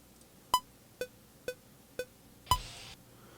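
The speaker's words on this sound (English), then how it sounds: "So now with the click track on, you can hear." Five sharp electronic beeping clicks tick at an even, steady tempo about half a second apart, the last one slightly heavier, over faint background hiss.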